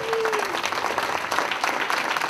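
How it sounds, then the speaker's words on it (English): Audience giving youth delegates a round of applause at a Q&A session, dense steady clapping close and loud, with a voice trailing off at the very start. "Let's give them a round of applause."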